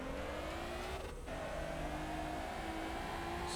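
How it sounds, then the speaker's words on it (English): A car drifting in Motor Town, its engine note climbing and revving as the driver kicks the clutch mid-slide, with a brief dip in the middle before the pitch rises steadily again, close and continuous. "you could always clutch kick to get more. Right there, I did a little one"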